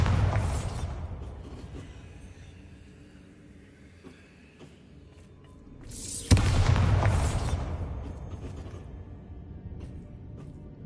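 Bombarda spell explosions in Hogwarts Legacy: a deep booming blast that rolls and fades, followed a few seconds later by a second, sharper and louder burst with a swelling rumbling tail, no talk over them.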